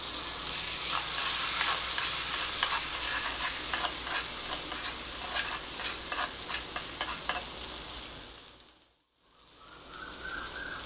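Ginger-garlic paste frying in oil in a pan over a low gas flame gives a steady, dense sizzle with scattered crackles and stirring scrapes, dipping briefly near the end before resuming.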